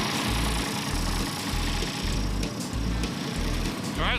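An old International truck engine idles steadily nearby with a low, rumbling, rhythmic, slightly uneven pulse, running on its own without any talk.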